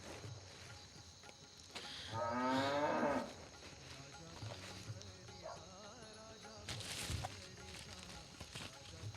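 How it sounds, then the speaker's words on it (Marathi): Buffalo mooing inside a shed, one drawn-out, loud low call standing clearly above a quiet room tone, with faint shuffling and scattered knocks before and after. "वासंती, पाहिलंस का गोट्यात तुझ्या सोबतीला एक नवीन म्हैस येऊन बसलेते?"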